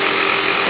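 A power tool cuts a couple of notches into a wooden piece for a DIY phone speaker stand, a steady, loud, close whine with no pauses across the short burst.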